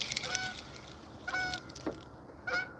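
Geese honk near a river channel close to a bridge, giving several sharp, nasal calls in irregular bursts, fairly close and clear over quiet water ambience, with no talk.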